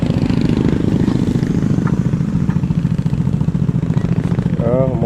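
Motorcycle engine running steadily on a broken, rough road on the way to Libacao, Aklan, with a constant close drone and clatter throughout, and voices talking over it.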